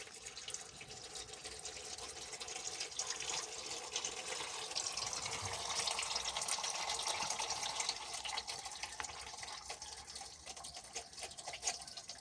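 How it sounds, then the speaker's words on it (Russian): Engine oil drains from a Chevrolet Cruze 1.8 Z18XER engine in a steady, continuous trickling pour, a close, even liquid splashing that runs throughout without talk. "Вот такое масло слилось. Сейчас оставим его. Пусть сливается."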